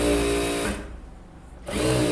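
Electric sewing machine stitching blouse fabric, its motor whirring loudly up close, dropping away for about a second, then running again at full speed.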